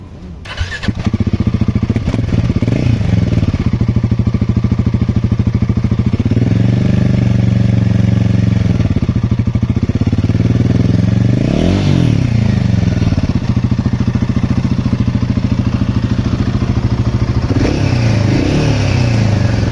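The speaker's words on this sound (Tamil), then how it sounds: "எக்ஸாஸ்ட் நோட் பார்த்துட்டு நம்ம ரைடு கிளம்பிடலாம்" Royal Enfield Himalayan 450 motorcycle starting up and idling close by, a loud steady thumping exhaust note with a few throttle blips swelling and falling back throughout.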